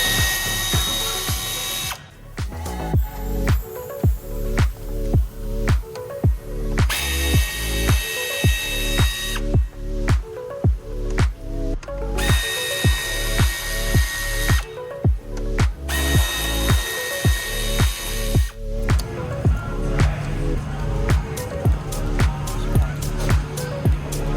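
A ratchet backs out 10mm screws from the spoiler of a Corvette C8, a loud close rapid clicking in repeated bursts with short pauses between strokes, continuing steadily throughout.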